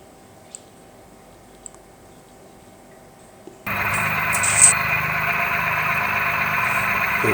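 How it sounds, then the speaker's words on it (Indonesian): Uwinfly U1 electric motorbike switched on: a few faint ticks in near silence, then a steady electric hum and whine starts abruptly and holds, close and moderately loud. "kurang lebih seperti ini ya untuk bunyi si motor listriknya ya"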